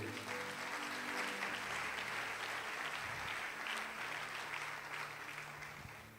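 A church congregation breaks into sustained applause praising the word of God, a dense steady wash of clapping from many hands that fills the room and tapers off slightly toward the end, with no one speaking over it.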